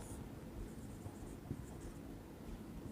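Pen or marker scratching steadily across a writing surface while working out the left-hand side of a trigonometry problem on complementary angles, a soft continuous scribble with faint strokes at close range and no voices.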